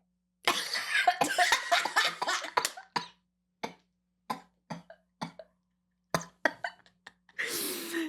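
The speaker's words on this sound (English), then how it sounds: "Your coughs are so cute." A close, dense burst of coughing, then a string of short, separate coughs spaced a second or so apart, ending with a breathy, hissing exhale.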